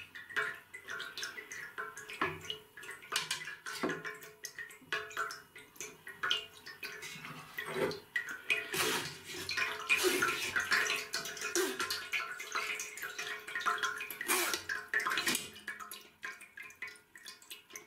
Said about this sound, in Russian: На сито откидываем